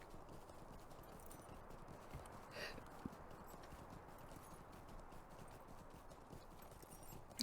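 A mounted horse in Lord of the Rings Online trots with a steady, faint clip-clop of hooves, repeating evenly beneath a quiet background hiss.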